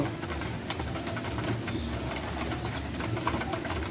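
Pigeons cooing amid a steady low murmur, with scattered light taps of pecking throughout.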